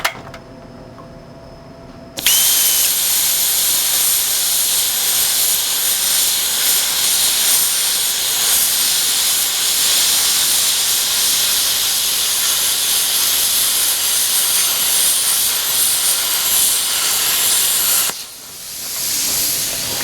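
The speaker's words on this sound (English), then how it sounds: "So with the plasma, we're going to be able to go ahead and gouge this out pretty easily" A plasma torch gouges a U-groove along a crack in a cast iron manifold, a loud, steady roaring hiss that bursts on after a quieter hum and runs unbroken for about sixteen seconds before cutting off.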